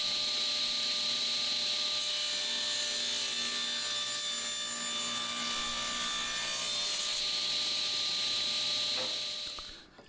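A saw rasps steadily through a small piece of 1x wood scrap while cutting a bevel, a continuous close hissing grind that runs for about nine seconds and then stops abruptly.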